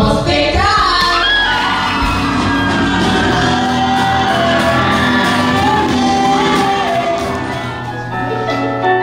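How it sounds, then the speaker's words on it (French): A school talent show audience shouting, whooping and cheering loudly and continuously, a dense crowd roar that stays strong throughout. "on vous demanderait de les encourager par vos cris et par vos applaudissements"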